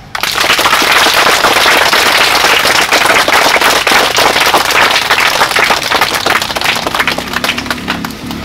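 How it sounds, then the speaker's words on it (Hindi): Loud, dense applause at a summer camp greets a police road safety officer, a crowd clapping rapidly and continuously for several seconds before tapering off slightly at the end. "इनके लिए भी तालियां।"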